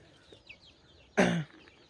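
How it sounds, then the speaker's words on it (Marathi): A desi village rooster or hen on a small poultry farm lets out one short, sharp cluck, close by, after a few faint scratchy sounds in a quiet yard. "तो गावठी, एकदम गावठी कोंबडा आहे"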